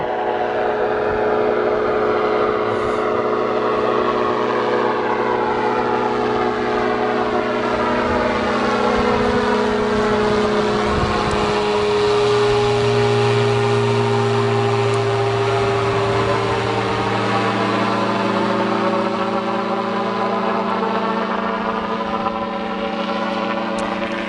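An ultralight glider engine drones steadily overhead above a frozen lake, a loud continuous buzz with shifting pitch as the aircraft passes close by, no voices.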